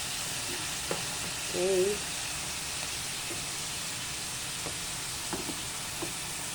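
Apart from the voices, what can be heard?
ampalaya and dried squid frying in pan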